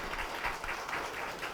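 A crowd at a Justice Party regional campaign rally in Chungcheong, Korea, gives a brief, soft round of applause, a blurred steady patter heard from some distance.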